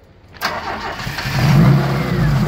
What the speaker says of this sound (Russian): мотор иногда заводится, иногда нет